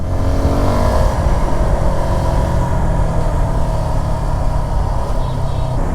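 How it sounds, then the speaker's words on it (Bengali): A Suzuki Gixxer 250 FI ABS motorcycle rides along a smooth open road, its engine droning loud and steady under accelerating throttle and wind rush throughout, with no voices. "এবার ফাঁকা রাস্তায় একটু বাইকটা চালিয়ে দেখা যেতে পারে"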